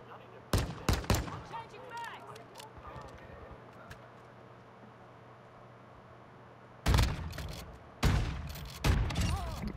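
Shotgun blasts from a Bryson 800 in Call of Duty: Modern Warfare 2, several loud, close bursts in quick clusters separated by quieter game ambience.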